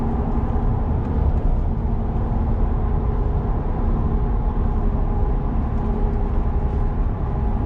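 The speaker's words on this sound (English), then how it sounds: "So definitely loud. You definitely can hear the road with these tires." Mud tires on a Ford F150 give off a constant loud roar at 70 mph. The broad, steady rumble and hum fills the cabin without a break, and no one speaks over it.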